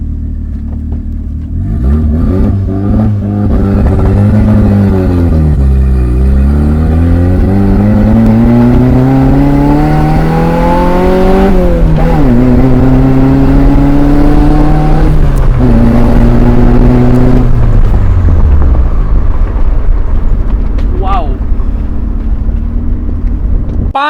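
A misfiring 1989 Toyota Corolla small body engine revs close by, rising and falling in repeated pulls with a rough, uneven note over a constant idle rumble.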